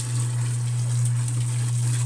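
An electric water pump motor runs continuously with a steady low hum and faint rattle, close by and alone.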